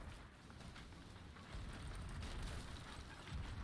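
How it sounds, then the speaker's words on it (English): Cannons fire in a busy pirate ship video game battle, a dense, rumbling barrage of booms and bursts that swells louder halfway through and keeps going without pause. "Everyone's literally firing cannons."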